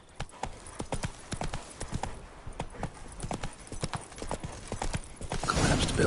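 Roach the horse gallops in The Witcher 3, a fast, rhythmic clip-clop of hooves on ground that carries on throughout and swells louder toward the end.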